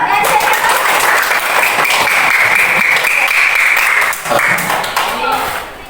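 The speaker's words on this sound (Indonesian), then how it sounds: "Tepuk tangan dulu." A classroom of students claps together in a loud, sustained round with a bright, shrill edge, likely mixed with voices, before tapering slightly near the end.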